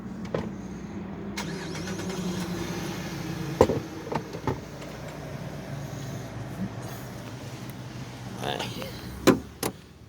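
A car door shuts with a couple of sharp thuds amid outdoor car noise and a low engine rumble, with light handling clatter as someone climbs out of a car on the way to a walk in a park.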